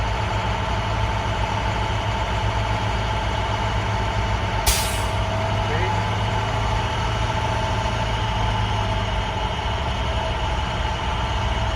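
A truck engine idles steadily and is held at revs while building air pressure, with a sharp hissing burst from the air governor cutting out partway through; no one speaks.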